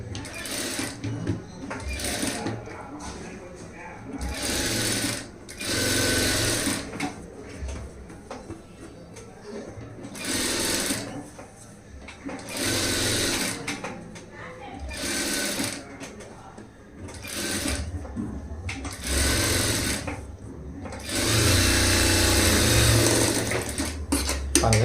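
A sewing machine stitches around a blouse lining in repeated bursts of several seconds each, with short pauses and handling sounds in between, loud and close throughout.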